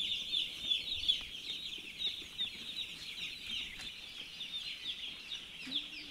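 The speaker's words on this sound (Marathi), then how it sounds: "1 दिवसाचे पक्षी आहेत मित्रांनो." Day-old poultry chicks peep in a continuous high-pitched chorus inside a poultry shed, many overlapping cheeps close by at a steady moderate level.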